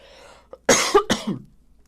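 Two sharp, close coughs in quick succession, preceded by a faint breath and followed by a short throat-clearing rasp.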